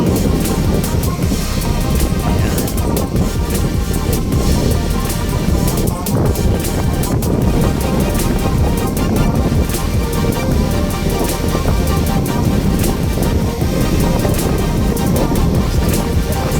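Strong wind at Manila Bay's Dolomite Beach buffets and roars continuously, with steady rushing noise and low rumble throughout.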